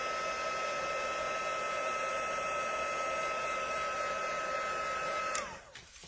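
A heat gun blows a steady, loud whirring hiss while drying white embossing powder on cardstock, humming evenly for over five seconds before switching off and winding down abruptly near the end.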